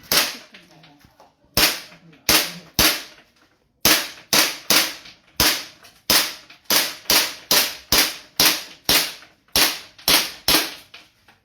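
Pistol shots fired one after another at a firing range, sharp loud cracks in irregular bursts, some close together and some spaced apart, each followed by a short decaying echo.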